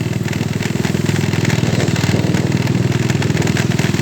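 A motorcycle rides along with its mid-pitched engine running steadily and loudly close by, a continuous throbbing hum with slight rises in revs and rattling clatter from the bike and the handheld camera.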